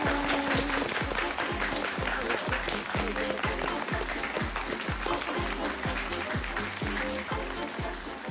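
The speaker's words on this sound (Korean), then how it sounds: "여러분 큰 박수로 우리 언니들을 또 환영해 주시길 바라겠습니다." A studio audience at a variety show fan meeting greets the performers with sustained, dense applause and rhythmic clapping that stays loud and even throughout, with music or voices faintly underneath.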